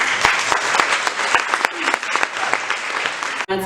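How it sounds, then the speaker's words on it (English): An audience at a sustainability summit claps loudly to welcome a speaker, a thick wash of applause punctuated by a few sharper nearby claps, breaking off abruptly at the very end. "So please give a round of applause for Tay Nguyen."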